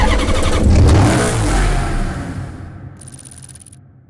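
A Porsche 911 Targa 4S engine revs hard and close, a loud rising roar that slowly fades. A faint high whine remains briefly near the end.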